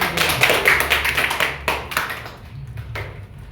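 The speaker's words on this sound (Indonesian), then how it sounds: "Ya, tepuk tangan dulu." Children in a classroom clap their hands together, a quick burst of many small claps that thins into a few scattered taps and fades near the end.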